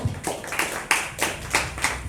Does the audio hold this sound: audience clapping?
yes